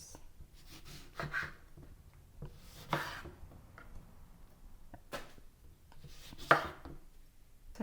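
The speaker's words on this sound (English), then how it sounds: "And now we'll start cutting our lemon so that we can juice." A knife chops through lemons on a cutting board, giving several separate crisp cuts spaced irregularly, close and fairly quiet, with no talking.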